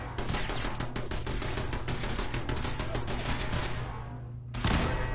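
Automated turrets fire in the video game Fallout 4, a dense, rapid stream of gunshots that rattles on continuously for several seconds, briefly dips, then resumes with a loud burst.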